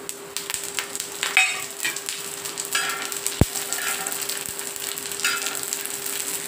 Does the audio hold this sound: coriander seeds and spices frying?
yes